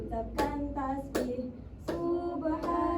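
Four crisp hand claps at a steady, unhurried beat, sounding over a sustained tonal background.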